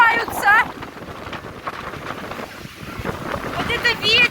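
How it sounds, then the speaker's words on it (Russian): Strong wind gusts on a beach at Borovoe in July, roaring and buffeting against the microphone throughout, with children's voices and chatter in the background. "Вот это ветер начался сильный, все улетает."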